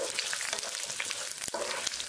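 Steady sizzling of garlic and green chili sautéing in a hot pan, a continuous crackle with a few sharper pops, close and fairly quiet.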